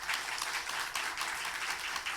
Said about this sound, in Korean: 우리 인사할 때 큰 박수 부탁드리겠습니다